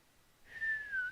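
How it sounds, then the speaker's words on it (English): A single rising-then-steady whistle from a station master, clear and fairly close, running about half a second with no talk around it. "The station master whistled."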